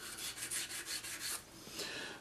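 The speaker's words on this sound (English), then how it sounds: "the sanding's going to go pretty quick on this" Hand sanding of a Cylon Raider scale model produces rhythmic rasping strokes, about eight quick back-and-forth passes up close, with no one speaking.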